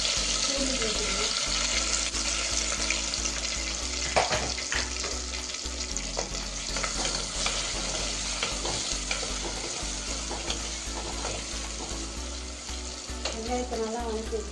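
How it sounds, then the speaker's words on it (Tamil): Steady, close sizzling of onions and garlic frying in a pan, with occasional stirring clatter throughout and no voices. "வெங்காயத்தை நல்லா வதக்கி வச்சுக்குவோம்."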